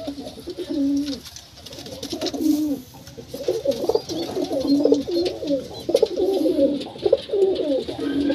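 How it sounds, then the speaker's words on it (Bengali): Pigeons kept as breeding pairs coo in repeated rolling phrases, fairly close and moderately loud, with a rustling background and no talking. "এই পায়রাটির পেয়ার দেখুন"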